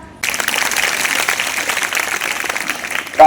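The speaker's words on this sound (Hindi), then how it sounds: "तालियां कम है ना?" Applause from an audience at a government senior secondary school's Hindi Day function, a steady dense clapping that starts abruptly and continues at even loudness throughout.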